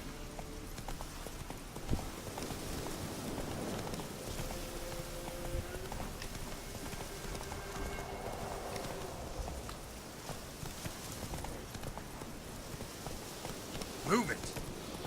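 Horse hooves clip-clop steadily at a walking pace in The Witcher 3, carrying on under background game audio and light rain-like ambience.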